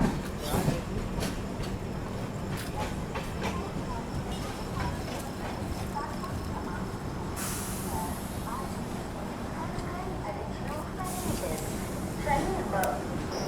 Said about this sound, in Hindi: दोस्तों ट्रेन अपनी खम्मम में अराइव कर रही है।